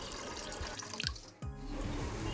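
Water splashing from a tap into a cooking pot set out for rice with ghee and whole spices, a steady close stream with a brief pause midway, no talking.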